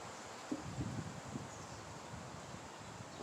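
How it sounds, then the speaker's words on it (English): Gusty wind blows outdoors with a steady broadband rush and soft rustling, a few faint bumps near the start, no one speaking. "windy here today"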